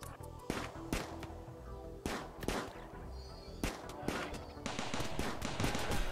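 Colonists firing guns in the Rimworld video game, a burst of sharp cracking shots at irregular intervals, some in quick clusters, over low background noise.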